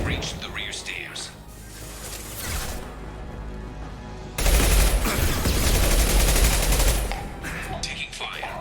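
Bursts of automatic gunfire in a Mass Effect firefight, a sustained loud volley in the middle of the clip with quieter scattered shots before and after, heard under a combat voice.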